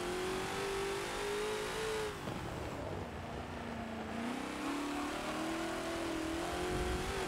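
A Ford GT40 racing around the Nürburgring Nordschleife in Forza, its engine roaring loud and steady, the pitch dipping as the throttle eases and then climbing again as it revs back up.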